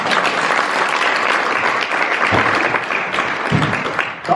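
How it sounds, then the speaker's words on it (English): Audience applause at a talk on resilience, a burst of brisk, loud clapping that holds steady for a few seconds and thins out near the end. "Quick round of applause."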